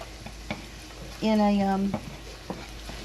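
Onions sautéing in a pan with a soft, steady sizzle and a few stirring scrapes, plus a brief tonal squeak partway through.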